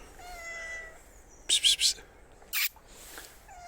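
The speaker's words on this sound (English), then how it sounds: "Cats." Cats meow up close in a couple of short bright bursts, one a quick triple cry and then a sharper single call, against quiet background near a roundabout in Stirling, Scotland.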